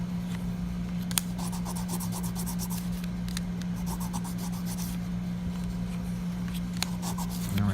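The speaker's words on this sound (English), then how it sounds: "you take every wafer, and you give it a little brush on the sandpaper to smooth off some of those burrs" Brass lock wafers from a Dodge Chrysler ignition cylinder are rubbed on sandpaper to smooth burrs, making soft repeated scratchy strokes close by over a constant low electrical hum.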